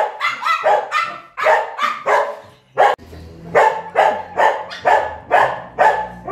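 Several dogs bark loudly and close by in quick, repeated bursts, with a short pause before the barking resumes at a steady rhythm.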